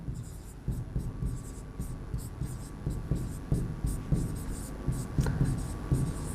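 Continuous writing on a board during a Hindi grammar lesson, a steady run of scratchy strokes and taps that goes on for several seconds, close and fairly loud, with no one speaking.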